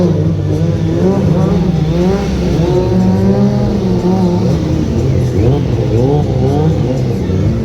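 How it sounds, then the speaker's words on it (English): A stunt motorcycle at a stunt show revs continuously through circle wheelies, its engine pitch rising and falling in repeated waves, loud and close against crowd-like background noise. "Okay, into some circle wheelies. Let's do it."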